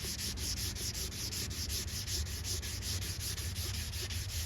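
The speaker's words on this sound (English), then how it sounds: "the other side I already started block sanding" Steady back-and-forth rasping of a sanding block on a guide-coated Chevy dually truck bed panel, rhythmic strokes repeating evenly and close up with no talking.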